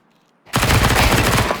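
Sustained automatic fire from an M4 rifle in Counter-Strike 2 erupts suddenly and loudly, a dense rapid burst that continues without pause to the end.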